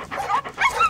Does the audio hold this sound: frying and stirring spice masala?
no